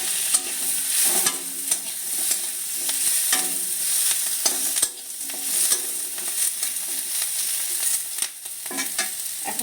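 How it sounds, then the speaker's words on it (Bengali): Diced capsicum fries in a pan with a steady sizzle while a utensil repeatedly scrapes and clatters against the pan as it is stirred, close and clear with no talking. "এরপরে দিচ্ছি এই যে ক্যাপসিকাম ডুমো ডুমো করে কেটে রেখেছি"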